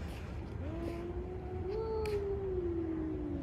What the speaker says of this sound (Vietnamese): Ủa, cái gì kêu ghê vậy? Hai con mèo.